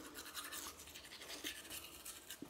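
Teeth being brushed with a toothbrush, a soft continuous scrubbing hiss with a steady back-and-forth texture, faint and close, with no talking.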